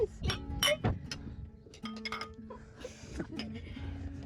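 Glasses clink in a toast at a boat naming ceremony, a few bright chimes and taps in quick succession near the start, followed by scattered lighter clinks and murmuring voices.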